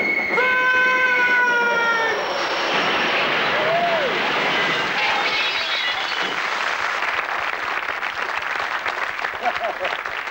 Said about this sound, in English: Gate shut, there's a train coming.